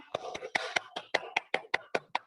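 About a dozen distinct claps ring out in a steady, even rhythm at a DXN business meeting, crisp and close, with no talk over them.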